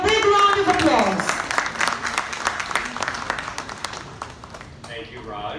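Applause from a large gathering at a corporate signing ceremony in a hotel, a dense burst of clapping that slowly thins and fades, with a voice speaking over the start.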